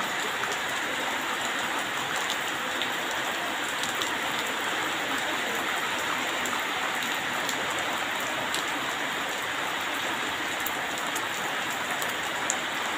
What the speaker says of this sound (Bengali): দেখো কতটা বৃষ্টি হচ্ছে।